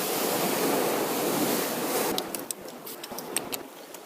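Ocean waves roll in and break on the shore, a loud continuous rushing surge for about two seconds that then thins into scattered splashes and crackling foam, with wind buffeting the microphone.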